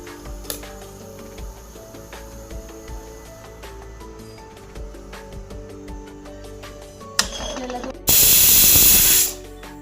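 Kitchen pressure cooker cooking a vegetable dish releases a loud, sharp burst of hissing steam near the end, lasting over a second, after quieter clinking and faint background sounds.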